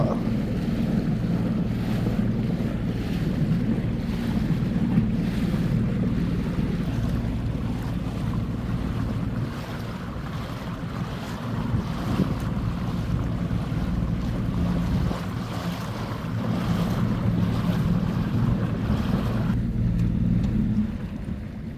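Sea waves and steady wind on a Thai coast in cool winter weather, with a boat-like low rumble beneath; a continuous, loud wash of surf and wind buffeting the microphone, with no talking.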